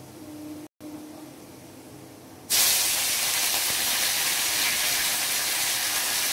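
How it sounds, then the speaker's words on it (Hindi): Curry leaves hit hot oil in a home kitchen: after a short quiet stretch, a sudden loud spitting hiss bursts in and holds steady to the end, with no talking. "और इसके बाद डालूंगी मैं अब कड़ी पत्ता"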